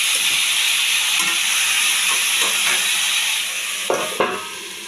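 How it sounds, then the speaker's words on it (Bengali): Banana flower (mocha) stirred into sizzling spiced oil in a pan, loud steady frying hiss, then a few scraping stirs and knocks toward the end as the crackle eases. "এবার দিয়ে দিচ্ছি আমি মোচাটা দিয়ে একটু নাড়াচাড়া দিয়ে আঁচটা কম করে"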